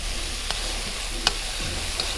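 Onion and smoked prawns fry in palm oil, a steady close sizzle broken by a few sharp stirring clicks from a utensil, with no voices.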